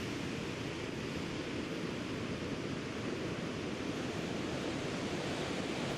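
Ocean waves wash onto a sandy beach in a steady, even roar of surf, constant and moderately loud with no voices.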